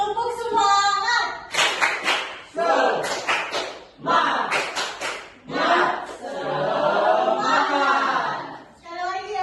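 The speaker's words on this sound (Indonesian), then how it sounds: "Tepuk semangat." A class of young pupils performing a rhythmic spirit clap, sharp clap bursts in patterned groups mixed with chanted voices, a teacher's voice leading between rounds.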